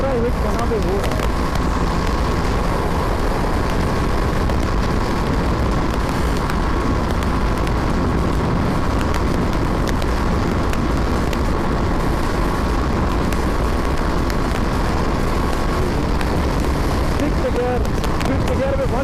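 A BMW G 310 R naked motorcycle runs at full throttle in fifth gear around 140 km/h, its engine a steady, loud continuous drone mixed with heavy wind rush throughout, with no gaps or pauses.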